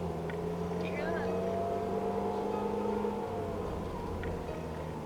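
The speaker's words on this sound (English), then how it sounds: "It's a turbo engine. It's going to do that anyway." A turbocharged car engine drones steadily inside the cabin with a rising turbo whine, low rumbling throughout, fairly loud and continuous.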